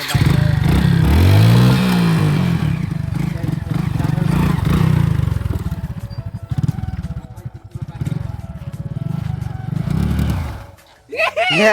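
A Hero Splendor motorcycle engine runs close by, rising and falling in revs, with a rough idle under someone talking throughout.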